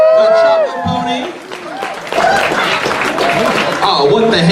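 Audience applause at the opening ceremonies of Ponyville Ciderfest 2018, a fan convention, mixed with cheering and chatter from the crowd, rising again strongly partway through and continuing under voices.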